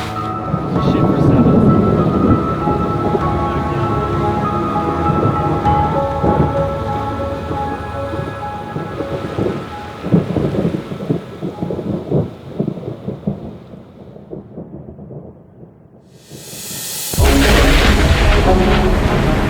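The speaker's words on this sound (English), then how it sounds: "I've never sailed in thunder and lightning like that before." Heavy rain pours steadily at sea on an ocean racing sailboat while rumbling thunder rolls and booms, fading briefly before a fresh loud downpour surges in near the end.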